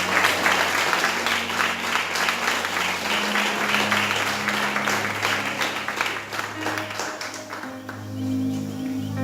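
A church congregation applauds during a Spanish-language sermon, steady sustained clapping filling the room for several seconds while faint organ or keyboard tones sustain underneath.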